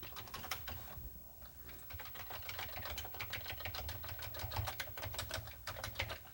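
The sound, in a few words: typing on a Commodore 64 keyboard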